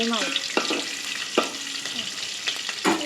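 Oil sizzling and frying in a pan just before onions go in, a continuous crackle broken by several scraping stirs of a spatula against the pan, close and moderately loud.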